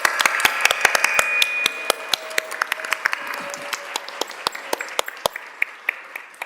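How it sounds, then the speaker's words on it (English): Applause from a city council meeting audience honoring commissioners, with sharp individual claps standing out over a steady crowd wash that thins into scattered claps toward the end. "can we give them all a big round of applause?"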